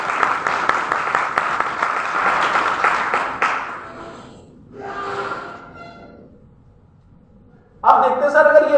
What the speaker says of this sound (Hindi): ताली बजा लीजिए अपने लोगों के साथ।